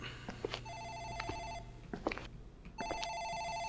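An office telephone rings in a horror video game, sounding two electronic bursts separated by a gap. Faint in-game clatter and movement sit underneath, and no one speaks.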